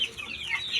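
A chicken clucks in a short, close burst of soft, steady fowl chatter.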